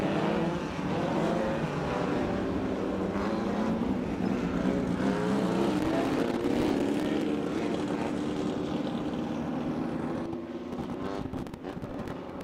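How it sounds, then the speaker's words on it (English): Short course race cars roll out onto a racetrack together in a continuous loud engine roar with overlapping revving, sustained throughout before easing slightly near the end. "an overhead shot of the cars as they come out onto the racetrack"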